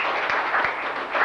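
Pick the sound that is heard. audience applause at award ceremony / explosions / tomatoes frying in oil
audience applause at award ceremony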